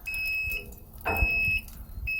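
A smoker's controller gives a high electronic beep repeatedly in steady pulses, each tone held briefly with short gaps between, close by.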